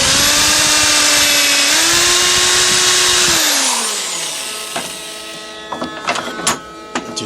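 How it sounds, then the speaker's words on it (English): A drill spins a small Forstner bit into a workpiece held in a vise, giving a loud, sustained high motor whine that drops in pitch as it bores, then winds down into a few clunks and taps. "This one's the smallest Forstner bit. And to help me out here, I put it in the vise."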